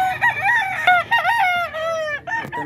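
Large rooster crowing up close, one loud drawn-out cock-a-doodle-doo with a rising and wavering call lasting about two seconds, followed by a brief clucking sound at the end.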